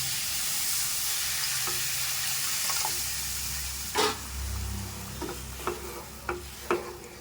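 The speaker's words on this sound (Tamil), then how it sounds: "இப்போ நாம் அரைச்சி எடுத்து வச்சல பீட்ரூட் சாறு அதை சேர்த்துக்கலாம்." Beetroot juice poured into semolina roasted in ghee, a bright steady sizzle and hiss with sharp clicks of stirring and spoon taps scattered throughout, close and loud.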